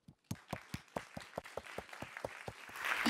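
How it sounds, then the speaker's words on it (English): Conference audience at a PyLondinium Python talk starts clapping: a slow, evenly spaced series of distinct claps, then a denser patter of applause swelling at the end. "let's give her an applause"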